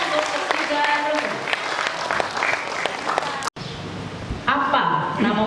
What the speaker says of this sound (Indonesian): Tepuk tangan untuk ketiga regu.